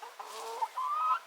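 A hen clucking close by, a few soft tonal clucks and a drawn-out murmuring call, quiet and alone with no talk.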